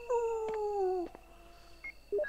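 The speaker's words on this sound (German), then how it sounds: "Ja, kleiner Hund, ist ja gut." A dog in the video game Resident Evil gives a long, falling whimpering whine, followed by a few short faint electronic beeps in a quiet setting.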